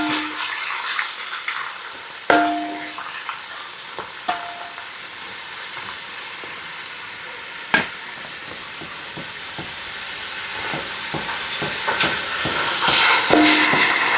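Onions sauté in a pan for tomato rice, giving a steady close sizzle broken by occasional sharp taps and scrapes of a spatula against the pan, with no voices.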